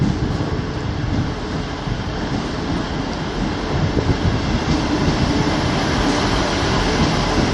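A train rolls through York station on the East Coast Main Line, a steady loud rumble of wheels and carriages that swells slightly toward the end, with no voices.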